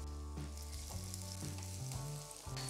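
Sliced garlic, ginger and green chilli sauté in hot oil, a steady close sizzle under a low, droning hum that shifts pitch now and then, with no voices.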